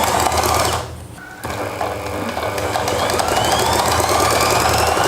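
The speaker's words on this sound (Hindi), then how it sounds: "सीधी सिलाई लगा लेनी है" A sewing machine stitches a straight seam while making cord, a steady close-up mechanical whir that pauses briefly and then runs on continuously at an even, loud level.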